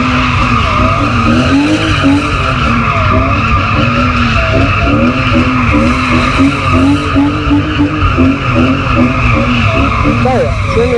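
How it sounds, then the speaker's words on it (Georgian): A car drifts in tight donuts on a driving lesson, with loud, continuous tire squeal over a roaring, revving engine close by, and voices talking over it. "მიეცი გაზი და დააცადე რომ მოცულდეს მანქანა და მერე აუშვი."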